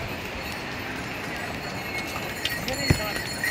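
Pack horses clop along the crowded Yamunotri pilgrimage trail. The hoofbeats are faint and sparse under steady outdoor ambience, with a sharper knock near the end.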